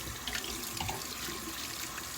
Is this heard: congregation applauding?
no